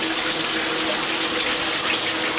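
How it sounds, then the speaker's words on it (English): Shower at a house running at strong water pressure: a loud, even hiss of spray pours continuously and close up, steady from start to end, with no voices. "we see it coming out of the shower"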